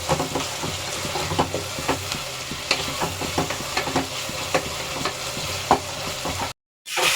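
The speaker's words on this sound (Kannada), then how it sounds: "ಟೊಮೊಟೊ ಸಿಪ್ಪೆ ಸುರಿಯೋವರೆಗೂ ಫ್ರೈ ಮಾಡ್ಕೋಬೇಕು." Tomatoes for a country-style chicken biryani fry in a pan, with a close, continuous sizzle broken by regular clinks and scrapes of a stirring spoon. A brief silent gap comes near the end.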